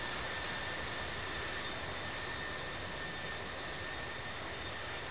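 Engines of a United jet airliner on its takeoff run on runway 34 right at Seattle, a constant loud, broad roaring rush with a faint high whine, unbroken throughout.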